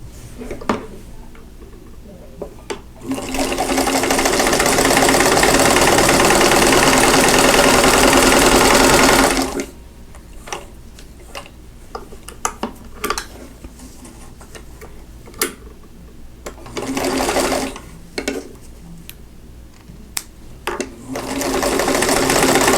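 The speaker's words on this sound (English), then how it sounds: "I'm going to put right sides together and sew 1/4 inch away from that drawn line on both sides of the line" A sewing machine stitches quilt block squares a quarter inch from a drawn line, with one long steady run of fast mechanical whirring, then a string of short clicks and brief bursts of stitching.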